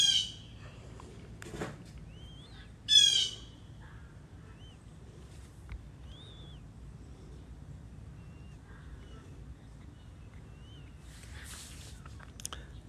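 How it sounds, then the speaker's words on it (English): Blackbirds give a few scattered, short warning calls outdoors, moderately distant and spaced seconds apart, over low rumble and wind. "The blackbirds issue a warning, and the squirrels issue warnings."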